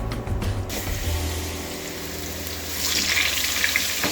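Ginger garlic paste frying in a karahi for Afghani mutton karahi, a steady sizzling hiss close up that grows brighter and louder toward the end, with no talking.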